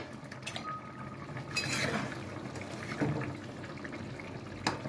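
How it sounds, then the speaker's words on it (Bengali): A metal lid lifts off a cooking pot of simmering curry with a couple of soft clinks, a rattle and a brief burst of escaping steam, followed by faint kitchen clatter. "এবার ঢাকাটা খুলে দিচ্ছি।"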